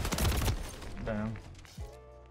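Burst of teammate gunfire in the video game Modern Warfare 3 during a ranked Hardpoint match, a short volley of shots at the start followed by quieter game sounds and a brief voice.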